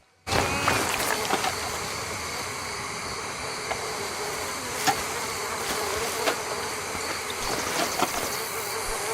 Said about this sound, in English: you can hear so many ambient sounds in the swamp, frogs, birds, insects